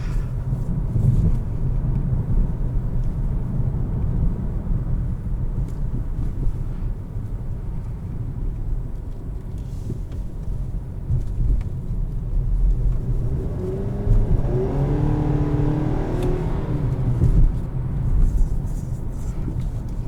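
A 2020 Nissan Sentra SR with a 2.0-liter four-cylinder engine drives and accelerates, giving a steady low rumble with road and wind noise. The engine note rises and strengthens partway through as it picks up speed.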